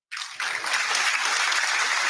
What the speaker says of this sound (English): you know why I'm giving you that hand clap?